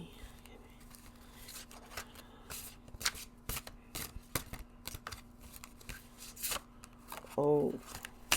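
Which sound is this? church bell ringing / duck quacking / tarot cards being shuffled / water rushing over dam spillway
tarot cards being shuffled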